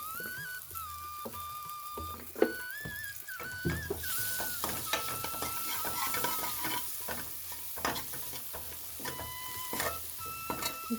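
Ghee sizzles and fries steadily in a pan, with a spoon stirring and scraping as it goes, close and continuous, the frying growing louder partway through, while cooking apple sambar.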